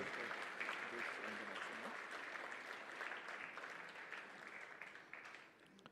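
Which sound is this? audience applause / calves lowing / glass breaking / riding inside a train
audience applause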